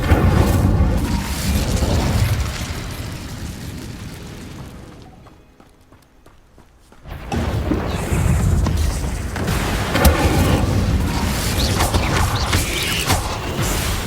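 A fiery magical burst of the Incendio fire spell in the Hogwarts Legacy game, with a loud rumbling whoosh and creaking effects, a brief near-silent gap midway, then the roaring blast resumes.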